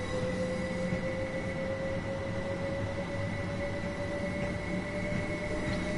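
A train in the simulator game Train Sim World runs steadily, a continuous rumbling drone with a sustained tonal hum, constant and fairly loud throughout with no voices.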